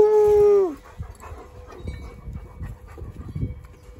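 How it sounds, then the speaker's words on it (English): A Labrador retriever puppy lets out one high, wavering whimper up close, then quieter scuffling, shuffling and small dog sounds continue in the background. "We're just wanting to play with the puppies."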